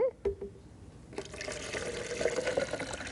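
Water from a tap runs and pours into a container for making cashew cream, a steady close splashing stream that starts after a few brief clicks and continues to the end.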